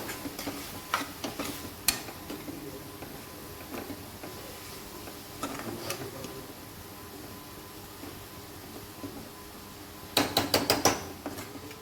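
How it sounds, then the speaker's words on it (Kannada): Green chillies, garlic and ginger frying in a pan for mutton cutlets, with a low steady sizzle under scattered clinks and scrapes of a spoon stirring, and a sharper burst of metal clatter near the end. "ಹಸಿಮೆಣಸಿನಕಾಯಿ, ನಂತರ ಗಾರ್ಲಿಕ್ಕು, ಜಿಂಜರನ್ನು ಎಲ್ಲವನ್ನು ಹಾಕ್ತಾ ಇದ್ದೇನೆ. ಹಾಕಿ ಚೆನ್ನಾಗಿ ಸ್ವಲ್ಪ ಹುರಿದುಕೊಳ್ಳುವ"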